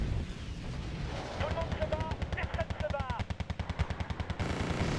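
Video game gunfire in Wargame: Red Dragon, a Second Korean War 1992 campaign, plays as rapid machine-gun bursts in a fast regular stream with heavier booms, while a voice talks over it.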